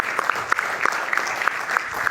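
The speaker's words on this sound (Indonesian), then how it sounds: "Saya panggilkan dulu Bung Andre Rosiade, kita berikan tepuk tangan." A short burst of steady, moderately close applause from a small audience, with the claps forming a dense patter throughout.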